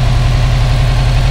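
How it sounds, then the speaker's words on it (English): Car engine idling at around 1,400 to 1,500 RPM despite having no compression in cylinder 4, giving a loud, close, steady low rumble with a regular pulsing throb and no voices. "here's some footage of that engine running"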